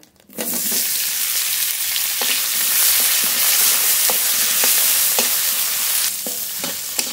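Onions frying with bay leaf and whole cumin in mustard oil burst into a loud, dense sizzle after a brief quiet start, with periodic scrapes of a spoon stirring the pan and no speech.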